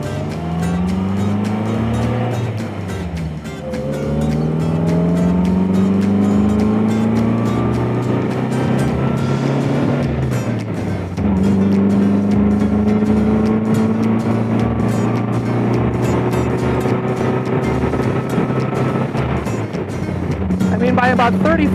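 A vintage MG TC sports car drives along a quiet country road, its engine loud and close with rising and falling pitch as it accelerates through the gears, interrupted by brief shift pauses.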